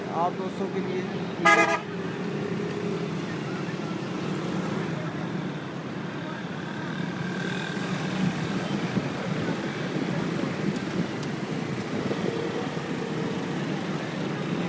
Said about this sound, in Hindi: अभी आप ट्रैफिक की रवानी देख रहे हैं